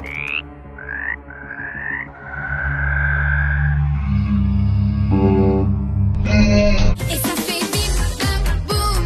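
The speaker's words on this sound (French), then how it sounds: "Et la grenouille, elle fait quoi? Croix, croix." Frog croaking in short repeated calls, rising tones followed by a longer drawn croak, then heavily processed, distorted and echoing versions of the croak building into a dense, loud stretch.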